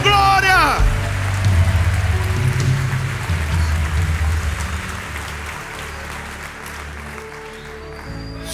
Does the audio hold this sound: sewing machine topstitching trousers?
no